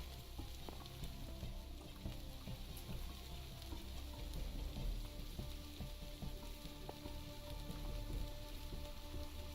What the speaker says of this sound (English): Although it's raining on the roof. Somewhere. I hear rain.